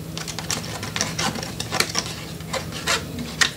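Scissors cutting along a score line on a paper piece for an altered cigar box album, a string of close, crisp snips and rasps at an uneven rhythm with no talking.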